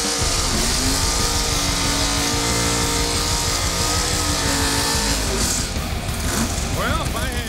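Ford Nova drag race car engine revving loud and close, a steady raw roar with rising pitch sweeps near the end, voices talking over it.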